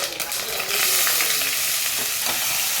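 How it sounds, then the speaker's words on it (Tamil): Onions hit a hot pan with cloves, cardamom, dried chilli and curry leaves, a loud close sizzle that swells and continues with stirring scrapes. "வெங்காயம் போட்டுக்கலாம்"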